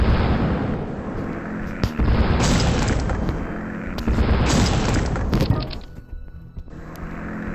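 Bombs explode over Tokyo in the World Conqueror 4 strategy game, a dense string of heavy booms and artillery-like blasts rolling on for several seconds, loud and continuous, with no talking.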